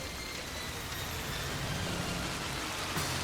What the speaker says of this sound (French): Je vais concentrer toute cette averse sur les arbres.